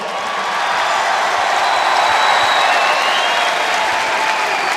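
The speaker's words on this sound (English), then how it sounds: "give it a round of applause" Loud, dense applause from a large video game crowd in a WWE 2K wrestling show, a continuous wash of clapping that holds steady for several seconds.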